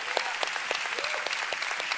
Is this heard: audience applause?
yes